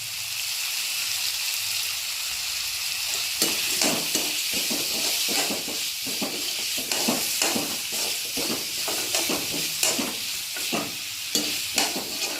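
Steady sizzle of onion-free broccoli kurma masala sautéing in a pan, with a run of scraping stirs from a spoon against the pan during the second half.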